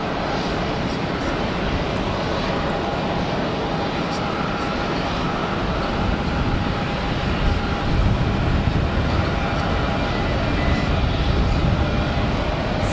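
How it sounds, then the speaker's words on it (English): A tiny Embraer Phenom 100 jet spooling up at Geneva Airport, a loud, continuous broadband engine roar with a faint whine that swells slightly midway, heard from a distance. "Get ready for the fast spool up. Tiny little Phenom 100."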